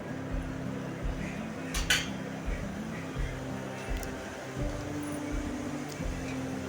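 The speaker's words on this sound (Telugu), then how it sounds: "అవన్నీ పోసుకొని బాగా కలుపుకోవాలి." Coconut paste being stirred into a pot of rice for pulao, soft scraping and occasional clinks of a spoon against the pot, faint and close, over a low steady hum with a voice speaking.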